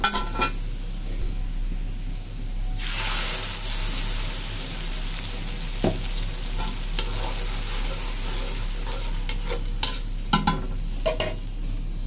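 Ginger garlic paste drops into hot oil with browned onions, setting off a sudden loud sizzle that continues steadily, with stirring scrapes and occasional clinks of a utensil against the pan.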